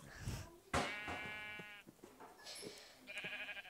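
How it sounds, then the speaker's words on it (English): Sheep bleating in the Minecraft video game: two or three short, close, clear bleats separated by quiet gaps, with no talking. "this one that I'm gonna spawn right now. Spawn a sheep."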